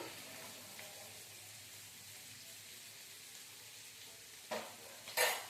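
Onions frying in oil in a pan for a simple bottle gourd dal, a steady low sizzle throughout with a couple of brief louder stirring scrapes near the end.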